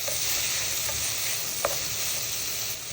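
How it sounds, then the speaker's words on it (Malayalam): Sliced onions sauté in a pan over a raised flame, giving a steady close sizzle with an occasional faint scrape or clink of a spoon stirring them, no voices present. "നല്ലോണം ഇളക്കി കൊടുക്കുക കേട്ടോ"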